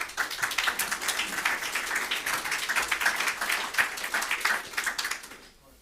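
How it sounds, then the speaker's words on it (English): Conference audience applauding steadily for several seconds, a dense wash of many hands clapping at moderate distance that tapers off at the end. "Give them a round of applause."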